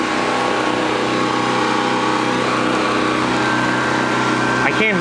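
Steady drone of a Predator 3200/4000 watt portable gasoline generator engine running continuously at close range, with a brief rattling whine near the end.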